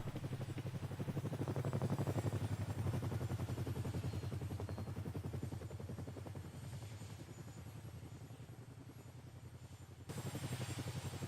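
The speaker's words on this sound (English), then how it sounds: "Can you walk around the scrap heli while it's flying?" Scrap helicopter in the game Rust flying, a steady loud rotor drone with low thumping rumble throughout, dipping briefly near the end before resuming.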